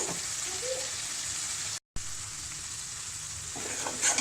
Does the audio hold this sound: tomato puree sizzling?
yes